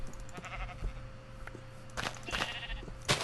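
Sheep bleating in the video game Minecraft, several short bleats spread over a few seconds alongside clicks and game sounds, fairly close and moderately loud, with no talking.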